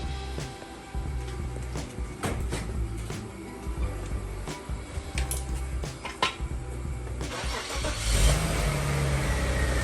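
Audi C5 allroad being started after an air strut replacement, a cranking catch followed by an idling engine hum, with a louder surge toward the end; close by, no speech.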